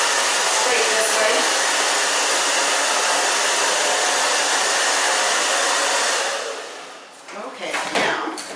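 A hair dryer blows on short hair, a loud steady whooshing roar held close for about six seconds before it drops away and is followed by brief handling noises.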